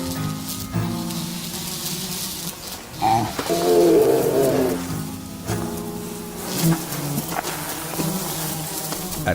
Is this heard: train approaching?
no